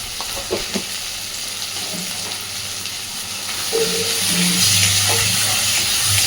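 Onions fry in a pan with a pinch of Kashmiri chili powder while being stirred, giving a steady close sizzle with occasional scraping stirs that grows slightly louder toward the end, with no voices.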